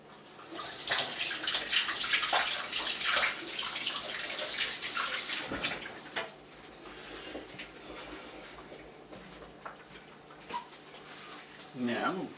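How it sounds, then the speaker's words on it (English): Tap water runs steadily while a glove is washed at a sink during lamb and pork smoking prep, loud at first and easing off, with brief splashes near the end. "I'm just going to wash this glove."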